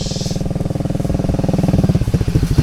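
A motorcycle rumbles close by on a village road in Barangay Banga, Lagawe, Ifugao, its engine firing in a steady rapid putter that shifts pitch slightly as it passes, loud and alone.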